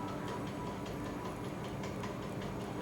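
A train at Karimnagar railway station, diverted from its usual route, rumbles steadily and loudly close by, a dense continuous roar with faint rhythmic wheel clatter.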